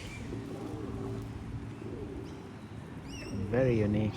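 Pigeons coo softly in a low, repeated rhythm amid outdoor background noise, with a louder burst of calls near the end where one bird sounds closer.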